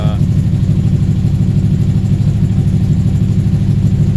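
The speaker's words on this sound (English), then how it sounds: "it wants to rev up a little bit high on the choke" A 1971 Ford F100 rat rod with 2.5-inch straight-pipe cherry bomb exhausts idles high on the choke, a loud, steady, low engine rumble held throughout without letting up.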